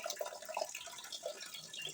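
Water splashing softly as a face is washed, with quiet irregular splashes and trickles, faint and close, and no talking.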